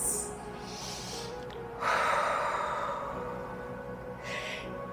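A deep audible exhale during a yoga goddess squat, a soft breathy rush of air lasting a couple of seconds, heard close over a quiet background with faint breath sounds around it.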